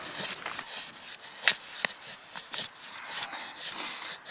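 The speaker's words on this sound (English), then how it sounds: "with this huge, massive 10-inch blade, I can get this fine shaving done very easily" An ESEE Junglas knife with a 10-inch blade shaves fine wood kindling in quiet, short scraping strokes, a soft rasping rhythm with a couple of sharper clicks, close and faint.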